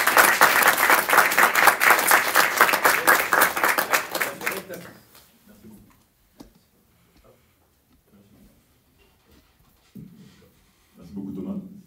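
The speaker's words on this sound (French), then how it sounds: "J'aimerais encore un petit tonnerre d'applaudissements pour l'invité exceptionnel" An audience at a talk on liberalism and youth in Versailles bursts into loud, dense applause that rattles on for several seconds, then dies away to scattered claps and quiet room noise before a voice begins speaking.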